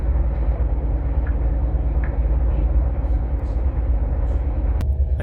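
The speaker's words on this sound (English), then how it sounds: "Okay, we're pulling in." A Stadler FLIRT regional train on the Bittern Line slowing into a station: a steady, close low rumble of wheels and motors throughout, with a brief sharp knock near the end.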